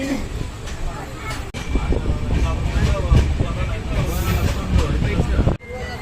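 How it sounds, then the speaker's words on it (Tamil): Steady rumbling of a train departing Bhatkal, a continuous low mechanical roar with rattling, loud and close, with people talking faintly underneath. "நம்ம ட்ரெயின் பார்த்தீங்கன்னா பத்கல் இருந்து கிளம்பிடுச்சு."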